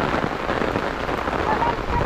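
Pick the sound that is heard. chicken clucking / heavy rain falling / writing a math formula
heavy rain falling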